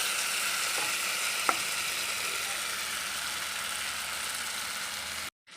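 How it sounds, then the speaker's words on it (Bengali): Masala sautéing in oil for a Bengali chital fish curry, a steady close sizzle and crackle with a faint stirring clink near the start, running continuously until it cuts off abruptly at the end. "আর দশ মিনিট আমি কষাবো ভালো করে কষিয়ে তারপর আমি জলটা দেবো"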